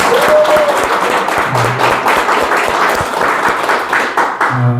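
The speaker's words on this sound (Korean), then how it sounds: "박수 안 주십니까?" An audience breaks into sustained applause, dense overlapping clapping that fills the room at close range, holding steady for several seconds with a brief bit of voice near the end.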